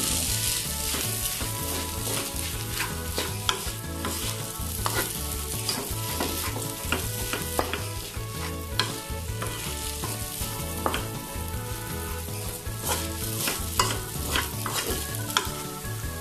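Black kluwak fried rice being stir-fried in a pan: loud continuous sizzling with repeated scraping and tossing strokes of a utensil, close and busy throughout, no voices.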